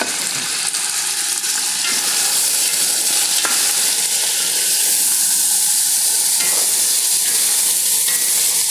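Potato and mixed vegetables frying in a pan for chicken majboos, a loud, dense and continuous sizzling hiss heard up close, with occasional faint stirring scrapes and no talking.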